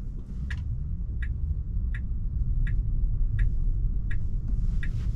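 A Tesla on Full Self-Driving rolls along with a steady low road rumble inside the cabin, while a soft tick repeats evenly about every 0.7 seconds, like a turn signal.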